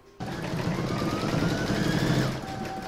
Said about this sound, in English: Next is round number 13 and that's the satin stitch around the border.